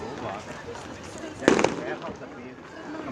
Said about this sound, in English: Look, guys, the fireworks tryouts.